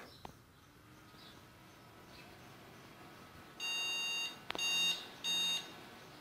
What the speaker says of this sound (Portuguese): Dá os mesmos bips e desliga.